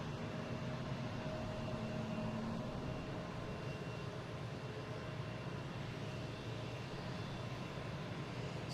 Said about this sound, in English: we have a Delta coming in from Dallas Fort Worth, 737-800, flight 760